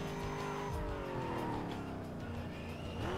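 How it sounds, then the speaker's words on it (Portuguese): Tires squeal and scrape under a revving engine in Need For Speed Most Wanted, a steady, loud car drone with sliding pitch that stays close and continuous throughout. "Fica raspando o pneu."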